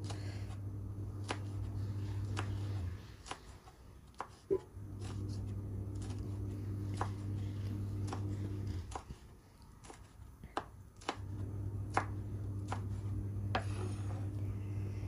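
Curly red chilies sliced diagonally with a knife on a cutting board: a series of sharp, evenly spaced chops, close and clear, over a low background hum.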